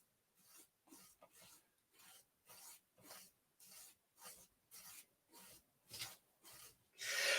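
An acrylic nail is filed by hand with a nail file during acrylic removal, giving a steady series of about a dozen close, evenly spaced rasping back-and-forth strokes, each short burst separated by a brief pause, with no talk.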